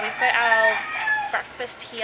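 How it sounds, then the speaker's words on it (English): Roosters crow on a morning in Palawan, sounding a loud, close, drawn-out call, then shorter clucks from the fowl as someone speaks over them. "you can hear the roosters and the cockerels going off"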